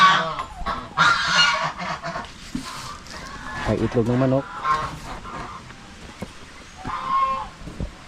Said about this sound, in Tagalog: May pabo na naglilin eh.